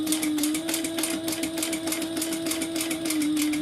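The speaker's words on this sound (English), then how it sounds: "let me just sew that again" A sewing machine stitches a tote bag in a steady, fast mechanical run, its motor hum and rapid needle clatter holding close and continuous throughout.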